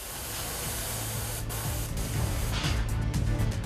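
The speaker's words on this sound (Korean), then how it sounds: "스프레이 작업인데요" Spray painting of injection-moulded toy parts through a mask jig at a toy factory: a loud, steady hiss of the spray gun runs throughout, with faint machinery tones underneath.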